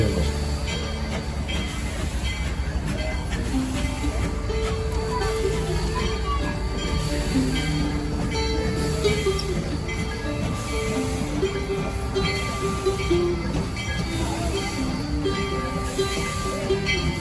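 Georgetown Loop Railroad train no. 40 rolling into Silver Plume, a continuous rumble of railcars with shifting wheel squeals and metallic screeches along the track, loud and close for about seventeen seconds.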